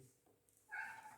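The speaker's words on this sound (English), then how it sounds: "That's my cat complaining." A single short cat meow, quiet and close, rising out of a faint background.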